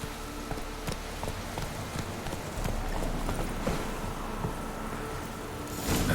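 Roach the horse gallops in the Witcher 3 video game, with quick rhythmic hoofbeats clopping steadily over a busy background wash, the pace picking up near the end.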